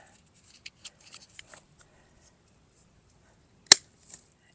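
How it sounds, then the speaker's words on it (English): A garden water line is cut into with a single sharp, close snip, after a few faint soft clicks and handling noises in an otherwise quiet setting. "Once again, I'm going to cut into this line."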